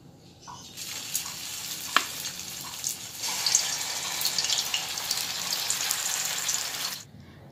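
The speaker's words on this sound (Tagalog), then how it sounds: "Lalutuin na natin yung ating turon with banana." Banana turon with lumpia wrappers frying in hot oil gives a steady, moderate sizzle that runs for several seconds, with a faint clink near the start, before cutting off.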